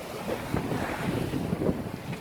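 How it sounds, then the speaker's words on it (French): Sailboat carried by wind and swell into a bay, with steady rushing wind buffeting the microphone and water sloshing against the hull. "on a la houle et le vent dans le dos maintenant qui nous pousse à l'intérieur de cette baie"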